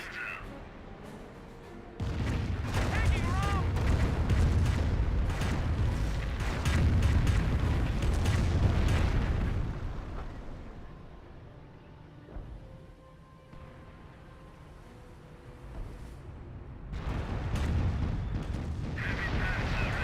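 Rocket barrage artillery in the Company of Heroes strategy game, with rumbling explosions and booms rolling in waves, heavy bursts early and again near the end and a quieter lull between, while a commentator talks over it.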